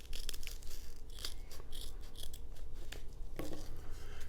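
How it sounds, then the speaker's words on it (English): Scissors cutting through thick Velcro and a foam holster pad for a Kydex IWB holster, a series of close, crisp snipping and crunching strokes with slight resistance, no talking. "you're cutting through that thick Velcro back there too, so there's a little bit of resistance as you cut"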